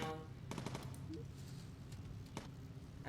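Machine gun fire from a bomber gunner in the game Bomber Crew comes as several short, faint rapid bursts over a low droning background.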